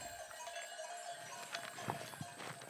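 A herd of goats wearing bells on a farm guarded by livestock dogs, the clinking bells faint and scattered with a few distant bleats against steady outdoor ambience.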